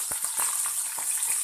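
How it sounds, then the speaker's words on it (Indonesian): A bright hiss of chili peppers sizzling in oil in a pan, with a few soft pops and stirring clicks scattered across the brief moment. "Sekarang kita goreng cabainya."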